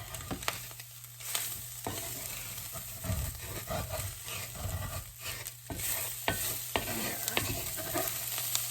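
Flour being stirred into frying ground meat and spices for shepherd's pie, with steady sizzling under repeated scraping and stirring clatter from a utensil in the pan.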